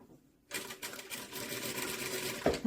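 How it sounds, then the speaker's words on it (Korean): A sewing machine starts up after a brief pause and runs at a steady, fast rhythmic chatter while topstitching toward a trouser pocket, close and clear, with a short voice near the end. "주머니 쪽으로 상침해 줄게요."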